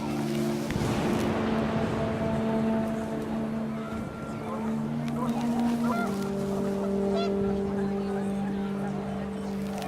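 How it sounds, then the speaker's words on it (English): Panicked geese honk in the video game What Remains of Edith Finch, a steady, dense flock clamor over wind and layered tonal game sound, with a voice speaking over it. "The wind picked up, and panicked geese appeared and quickly went."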